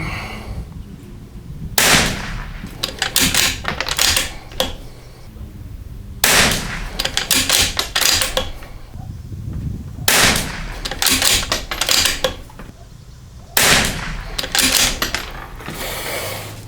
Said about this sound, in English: Here we go, first shot.